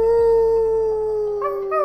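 A wolf howl plays on a full moon space in the Monopoly board game on Nintendo Switch: one long, steady, close howl that bends upward near the end, alone without talk.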